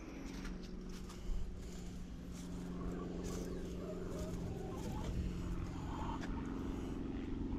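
Hens clucking inside a chicken coop, with scattered soft clucks and bird calls over a low steady background hum, and one slightly louder call early on.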